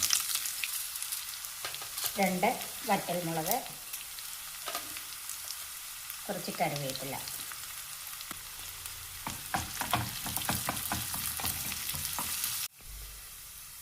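Shallots sizzle in hot coconut oil with popped mustard and fenugreek seeds, a steady crackling hiss, punctuated by a few clinks of a spoon, while a person talks over it.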